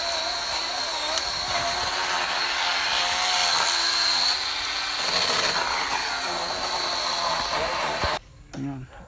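A chainsaw runs steadily and loudly through post-typhoon cleanup of a blocked farm road in Maria Aurora, Aurora, a continuous buzzing drone that cuts off abruptly near the end.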